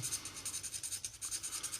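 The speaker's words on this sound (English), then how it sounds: "we're just sanding them down just like so" Rapid back-and-forth rasping of a sanding stick on a plastic seam of a 1/32 scale Trumpeter AV-8B Harrier model kit, a steady rhythmic scratchy rub up close, with no voices.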